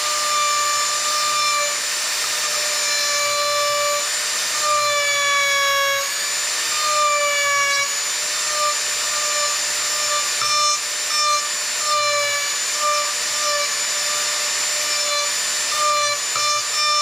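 A power tool whines and shifts pitch steadily as it gouges into wood while a bear's ears are carved, a long continuous tonal buzz with slight dips and no speech.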